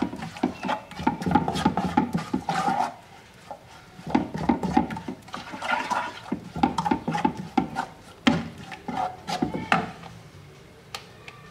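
Garlic, salt and cumin are mixed by hand in a bowl, giving repeated scraping and clattering strokes in bursts with short pauses, close and fairly quiet.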